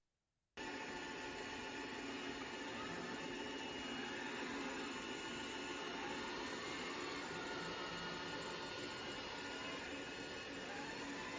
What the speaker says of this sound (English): This is another Trifo vacuum, but I'm going to just show you the obstacle detection.